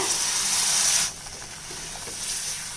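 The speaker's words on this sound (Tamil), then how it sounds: "இப்போ நம்ம குழம்பு கொதிக்கிறதுக்கு தேவையான தண்ணி விட்டுக்கலாம்" Water poured into a hot pot of tomato kuzhambu curry, a loud rushing hiss for about a second, then a softer steamy simmer.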